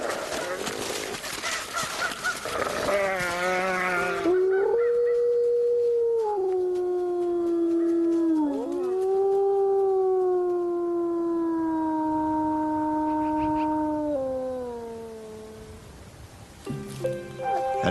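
A North American wolf pack howls together, long sustained tonal howls that rise, hold and bend in pitch, overlapping voices close by, preceded by a brief noisy yipping section and followed by yips.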